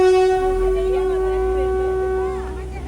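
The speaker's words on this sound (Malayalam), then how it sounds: "ഈ ട്രെയിൻ തന്നെ മുഴുവനായിട്ടും വരും." A narrow gauge train on the 110-year-old Bilimora to Waghai line in Gujarat arrives with a loud, sustained horn tone over low rumbling rail noise, the sound easing slightly toward the end.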